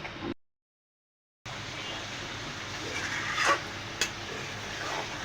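Spice paste for a spicy baim (eel) fish curry with potatoes is stirred and fried in a pan, giving a steady hissing sizzle with faint scraping. Near the start it cuts out briefly, then returns at an even level.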